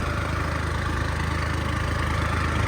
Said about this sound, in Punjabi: ਸਭ ਸਾਡਾ ਜਮਾ ਟਰੈਕਟਰ 800 ਤੇ ਜਾ ਰਿਹਾ